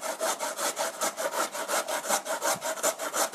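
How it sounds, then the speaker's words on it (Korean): A carrot being grated on a hand grater for ground pork steak, with quick, steady back-and-forth scraping strokes up close, about five per second, with no talking. "당근은 채 썰면 잘 안 익기 때문에 오늘은 강판에 갈아 보겠습니다."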